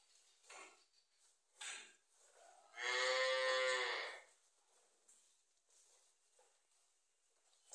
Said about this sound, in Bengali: অনেক বড় গরু, অনেক বিশাল লম্বা গরু